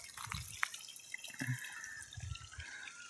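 Water runs from a hose in a farm field, heard as faint, scattered drips and light trickling splashes at close range, with no talk.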